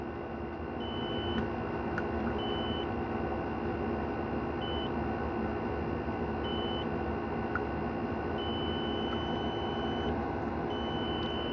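Short electronic beeps from a multimeter continuity test on a shorted Asrock B75M motherboard sound intermittently, some longer and some shorter, over a steady low hum with no talking.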